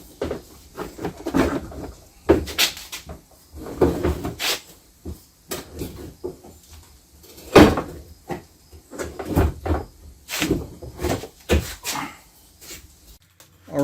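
Repeated clunks, clicks and metallic knocks from removing a door on a CFMOTO ZFORCE 800 EX UTV, in irregular bursts close by, with scraping handling noises between them.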